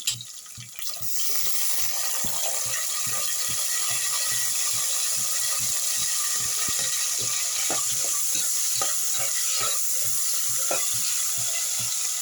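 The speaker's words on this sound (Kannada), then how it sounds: "ಟೊಮೆಟೊ ಮತ್ತು ಈರುಳ್ಳಿ ಇದು ಫ್ರೈ ಮಾಡ್ತಾ ಇದ್ದೀವಲ್ಲ" Steady sizzling of tomato and onion frying in a pan, punctuated by a regular rhythm of spoon clicks from stirring.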